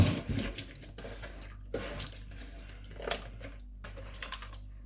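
Old cucumber rinsed under a running kitchen tap, a soft steady flow of water with faint drips and occasional handling splashes, quiet and close.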